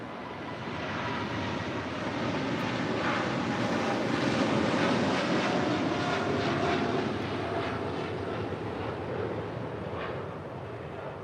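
An airliner takes off from runway 25 right at LAX, its jet engines a loud, continuous broadband roar that swells and holds steady for several seconds before easing slightly.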